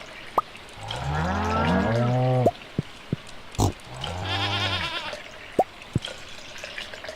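Barn animals in the Stardew Valley farming video game give two drawn-out cow-like moos, each a few seconds long. Soft clicks and taps sound between them against a quiet background.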